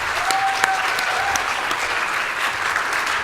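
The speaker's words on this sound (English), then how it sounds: "Give us a round of applause." An audience applauds at a tofu cooking demonstration, giving a dense, steady round of clapping with a few scattered cheers that carries on without pause.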